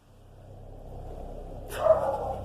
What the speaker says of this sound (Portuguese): Meu cachorro fica latindo.